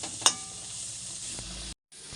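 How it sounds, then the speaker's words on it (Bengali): Bitter gourd and pumpkin frying in a pan, a steady close sizzle with one sharp crackle near the start, heard alone before a brief gap. "এই দেখো, উচ্ছে কুমড়ো ভাজা হচ্ছে"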